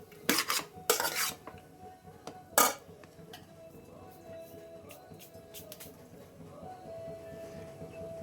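Egg rice being stirred and mixed in a pan, with a few sharp metal clanks of the spoon against the pan early on, then a quieter steady scraping with a faint background hum.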